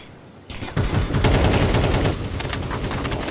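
Rapid automatic gunfire from the Counter-Strike match, a dense continuous burst of shots that starts abruptly and stays loud throughout, heard over the game's background without any talking.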